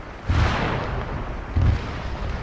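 A grenade explodes in the video game Arma 3, a deep booming blast with a rumbling tail, followed by a second low thud, loud and without talk.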